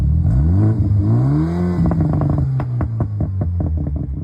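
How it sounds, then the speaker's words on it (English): A naturally aspirated 2-liter diesel car engine revs up close and loud, its pitch rising and falling, then settling into a rough, clattering idle with rapid knocking pulses. "Daily naturally aspirated 2-liter diesel, very slow."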